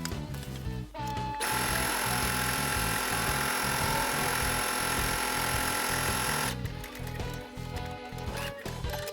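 A sewing machine stitches ribbon trim onto a fabric window panel, running in a steady, loud mechanical whir for about five seconds between shorter start-stop bursts of stitching, with no one speaking.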